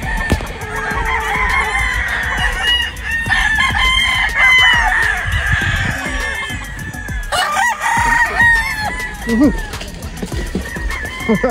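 Gamefowl roosters crow one after another at a game farm, loud and close, with clucking from other fowl filling the gaps across the whole stretch.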